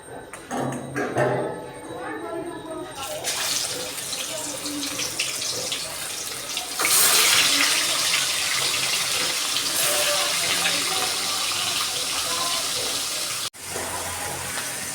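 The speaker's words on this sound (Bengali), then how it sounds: "এবার আমি কড়াইতে দেব মাছ।" Fish frying in hot oil in a wok, dropped into the pan as a Bengali fish curry with cauliflower and mustard paste is made; a loud, steady, hissing sizzle with a burst near the middle, runs almost the whole time and is briefly cut off near the end.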